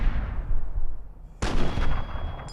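A single sharp, loud sniper rifle shot from the game Fallout cracks out partway through and then rolls off into a long echoing tail over a low rumbling backdrop.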